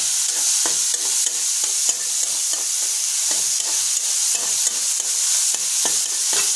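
Potol (pointed gourd) and potato pieces fry in oil in a wok, a constant bright sizzle punctuated by regular clacking stirs of a spatula against the metal, close and fairly loud throughout.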